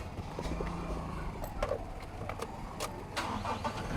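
A car engine turns over and runs for a short drive inside a residential subdivision, a steady mid-level engine rumble with a few sharper mechanical clicks and knocks, close by and without talk.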